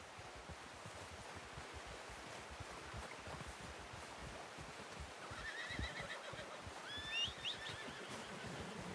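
Horse in Red Dead Redemption 2 whinnies once near the end, a short bright neigh rising over steady clip-clop hoofbeats and ambient outdoor noise throughout.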